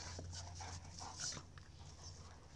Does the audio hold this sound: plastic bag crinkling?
no